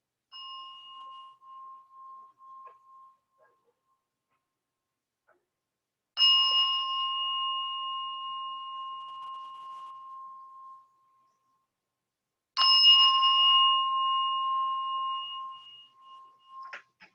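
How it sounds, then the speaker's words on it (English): A meditation bell opens a chair yoga session, struck three times at even intervals several seconds apart. Each clear, pure ring sustains and slowly fades in an otherwise quiet room. "I'll ring the bell 3 times to bring us into your practice today"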